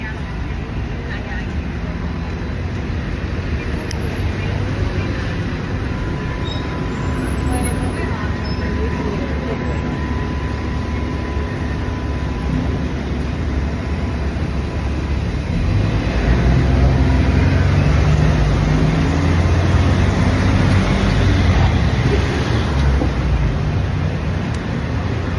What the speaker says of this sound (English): I can hardly hear anything more than traffic myself